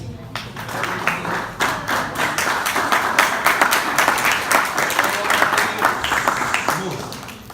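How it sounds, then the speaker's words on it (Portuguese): A church congregation claps together, a lively, fairly close burst of many hands with distinct individual claps pattering through, steady for several seconds, with some voices calling out beneath it. "Podemos aceitar aplaudindo a Deus."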